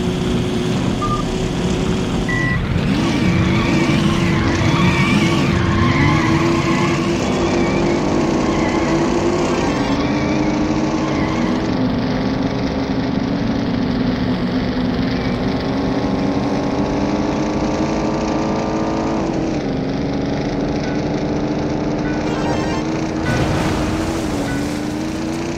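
Car engine in the Midtown Madness video game, played in City Central with altered physics and half gravity, drones steadily with pitch sweeping up and down through shifts and slides, loud and continuous throughout with no talk.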